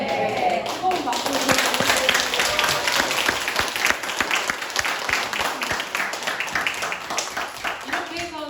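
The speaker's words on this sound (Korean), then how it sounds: "뜨거운 박수" A small indoor audience claps and applauds, a dense run of close hand claps lasting several seconds, with voices talking underneath.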